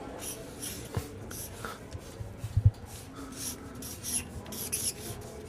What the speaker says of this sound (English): Take the pen, write it up.